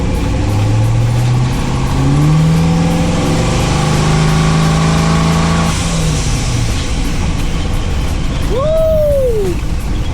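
A Winnebago with a boosted twin-turbo setup revs hard, its engine note rising and falling in loud sweeps. A sharp pop and a short whistling rise come near the end.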